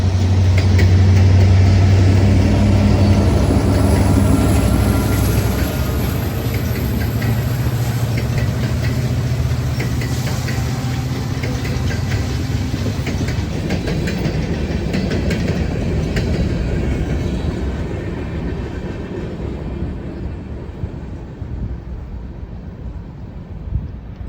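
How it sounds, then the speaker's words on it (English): Heavy Arkansas & Missouri freight train with four SD70 locomotives, three leading and one mid-train, rolling past near and loud with steady wheel rumble and clickety-clack, engine drone fading slowly over a long pass. "As the Fort Smith turn passes the passenger excursion, we see that the tonnage today has warranted 4 SD70s, 3 on the head end and 1 mid-train remote."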